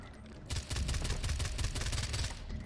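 Gunfire in the Far Cry 4 video game, a rapid burst of shots rattling for about two seconds, fairly close and dense, with no talking over it.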